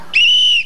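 A toy whistle (pito) blown once, a single steady shrill tone lasting about half a second, loud and close.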